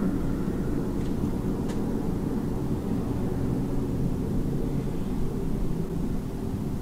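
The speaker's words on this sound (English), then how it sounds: "There's an airplane in the background." An airplane drones steadily somewhere in the distance, a continuous low, broad rumble that holds at the same level throughout without any other clear sounds.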